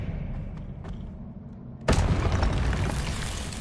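The Expelliarmus spell is cast in the video game Hogwarts Legacy, a sudden loud booming burst that cuts in over a low rumbling game backdrop and then rings on as a dense, crackling swell.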